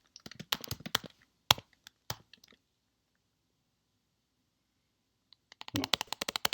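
Keys are tapped on a graphing calculator while an equation is entered, crisp close clicks in an uneven burst. A pause of silence follows, then a faster run of presses.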